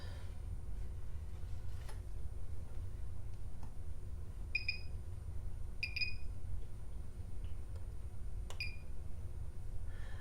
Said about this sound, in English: devices will beep every 10 seconds